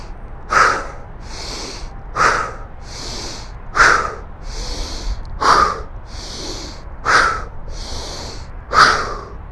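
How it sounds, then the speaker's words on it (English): Six sharp, forceful nasal exhales in a breathing exercise before an outdoor workout at a waterfront park, each a loud snorting burst spaced about every 1.5 seconds, with quieter inhales between them and no talking. "forcefully exhale through our nose through the bottom"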